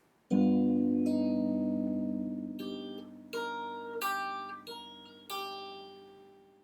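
Clean fingerstyle guitar picked note by note with a sustained low bass note ringing underneath, then several brighter plucked notes and pull-offs, quiet and close.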